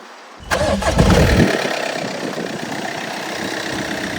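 A Skoda Octavia A7 2.0 diesel engine cranks and catches with a loud burst, then settles into a steady, rough idle close by.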